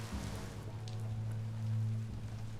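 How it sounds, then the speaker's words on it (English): Steady rain hisses across the landscape in Biomutant. The soft, even patter sits beneath a low sustained musical drone. "Rain."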